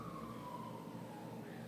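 An ambulance siren passing outside, faint and distant, its wailing tone gliding slowly beneath a steady wash of background noise.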